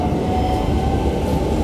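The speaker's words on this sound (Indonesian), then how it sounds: "Ini dari arah belakang ada KRL JR" A KRL JR 205 electric commuter train bound for Bogor rumbles past up close, with a steady low roar of wheels and a faint humming tone throughout.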